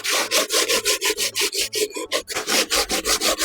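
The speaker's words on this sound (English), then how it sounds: "This is really fine grit sandpaper." Fine grit sandpaper rubs back and forth over a small surface in a texture technique demo, giving about fifteen quick, even, close scratchy strokes with no talking.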